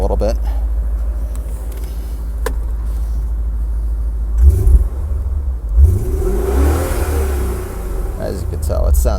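A Dinan-tuned 2000 BMW M5 engine revs up twice over its steady idle rumble, each blip swelling briefly then settling back, close and loud, with someone speaking over it.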